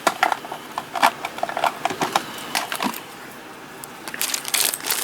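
A sealed plastic bag of seed beads is crinkled and tugged in a struggle to open it, giving sharp, irregular crackles and rustles close by, with a brief pause before a final flurry.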